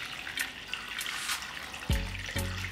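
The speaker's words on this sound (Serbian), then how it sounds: "I sipat ću vodu do visine poklopca." Water poured into a pot holding jars of meat, heard as a close splashing pour with a couple of short gurgling bursts near the end.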